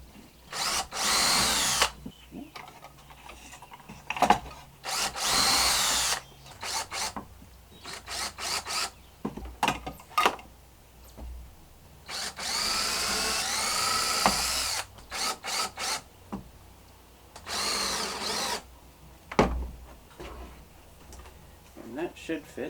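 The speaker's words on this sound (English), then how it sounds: "I can just drill this into the I-joist with 2 big screws." Repeated bursts of a power drill whirring as big screws are driven through pine into an I-joist at an off-grid cabin, some short and some sustained, with people talking in between.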